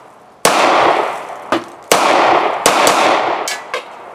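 Egyptian Maadi Helwan 9mm pistol fired at a range, several sharp, loud shots at uneven intervals, each crack followed by a short ringing decay, with no talk.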